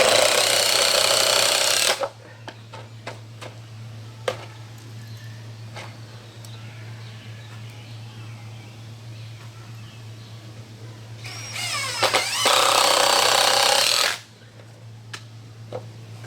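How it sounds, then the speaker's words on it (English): A power drill drives screws through boards into a 2x10 plank, two loud bursts of whirring at the start and again near the end, with quiet workshop hum and faint clicks in between. "and screwing down a couple of boards."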